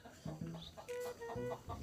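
A chicken clucks close by in a short run of quick, bright clucks and squawky calls, loud and alone with only faint background noise.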